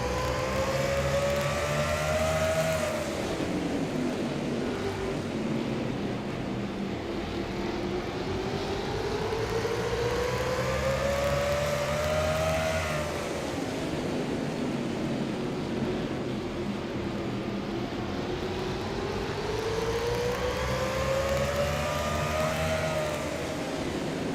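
Race car engines in a racing video game at Martinsville whine in repeated cycles, each pitch rising steadily then dropping sharply, a constant loud drone with no talking over it.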